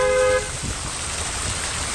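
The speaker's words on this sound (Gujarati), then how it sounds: "વરસાદ 2 દિવસથી રોકાવાનું નામ લેતો નથી" Rain pours steadily onto a waterlogged street with overflowing drains in Bhildi, heard as a dense, even hiss after a short car horn toot at the very start.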